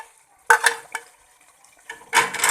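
Boiled beef is tipped into a pot of potatoes and stirred, giving two clattering bursts of spoon and metal knocks separated by a near-silent pause.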